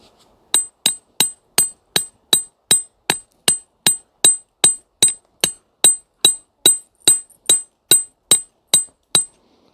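A hammer strikes rock while breaking out zeolites, about twenty sharp, evenly spaced clinks ringing out loud and close in a steady rhythm with nothing else heard.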